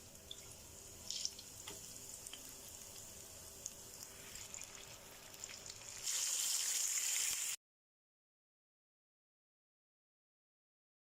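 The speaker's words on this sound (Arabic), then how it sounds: "طاسة فيها زيت، وانزل بالسمك." Fish is fried in a pan of oil, with a steady crackling sizzle that grows louder and brighter near the end before stopping abruptly into silence.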